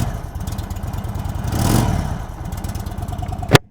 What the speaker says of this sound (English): Beautiful air-cooled exhaust engine, and let's listen.